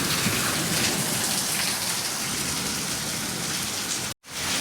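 Heavy rain pours steadily, a dense and loud rushing hiss with no voices, briefly cutting out near the end.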